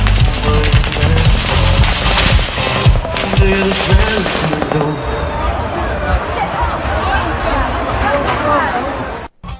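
Rapid gunfire crackles at a country music festival mass shooting, sounding like fireworks: dense repeated bursts over crowd noise and shouting voices, loud and continuous before cutting off abruptly.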